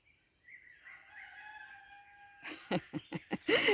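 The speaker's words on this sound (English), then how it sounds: "Mr. Rooster, I love to hear him." A rooster crows once in a long, drawn-out call at a distance, followed by a few sharp clucks and squawks closer up.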